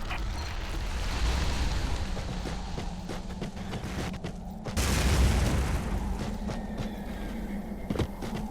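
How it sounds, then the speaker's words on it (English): A spike grenade in the sci-fi shooter Fracture on PS3 goes off in a loud, deep boom with a rushing burst of debris, set against a continuous low rumble and scattered smaller impacts. "Throw a spike grenade right under the lip of that grate."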